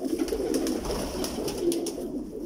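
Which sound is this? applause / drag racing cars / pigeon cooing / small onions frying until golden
pigeon cooing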